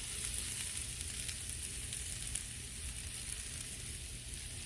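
Food sizzling in a pressure cooker on a butane camping stove in a campervan, a steady close hiss and crackle with soft bubbling underneath.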